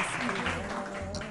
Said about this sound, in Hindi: हिना के लिए तालियां।